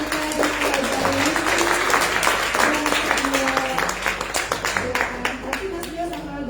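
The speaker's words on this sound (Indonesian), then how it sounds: "Kita tepuk tangan sekali lagi untuk narasumber kita" Seminar audience applauding the speakers at a keto-fitness Q&A session, a steady patter of many hands clapping at moderate volume with voices talking over it throughout.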